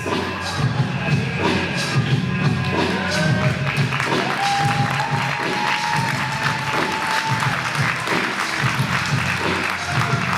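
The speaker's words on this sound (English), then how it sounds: "A round of applause, and rightfully so." Wrestling crowd at a live event applauding steadily, with cheering and shuffling mixed in and a few thuds, loud and continuous across the whole stretch.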